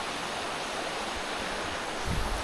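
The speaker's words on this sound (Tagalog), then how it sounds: "Subukan natin lumapit doon sa mismong pinaghuhulugan ng tubig." Water tumbling down a distant waterfall, heard from afar as a steady, even rush of broadband noise with a slight swell near the end.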